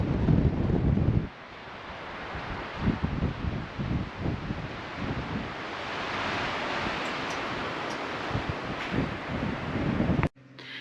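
Strong wind buffets a microphone outdoors in a cemetery on a snowy day, a loud continuous roar with gusty bursts and rustle, briefly easing early on and cutting off abruptly near the end.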